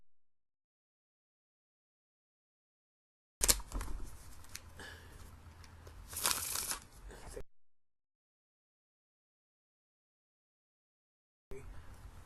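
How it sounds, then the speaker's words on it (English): Playing cards are riffled in a quick flurry of crisp fluttering snaps, a pause, then a soft bridge-like purr as they settle. "But a spectator can riffle shuffle."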